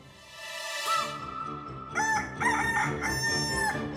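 A rooster hidden inside a neighbour's house crows and clucks several times in a row, fairly close and clear, with short calls breaking into longer crows.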